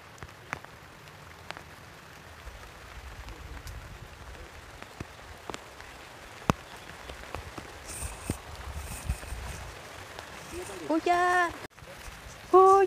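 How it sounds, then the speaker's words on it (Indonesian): Steady rain patters on a surface, with scattered drops and a voice or two speaking near the end. "Hujan."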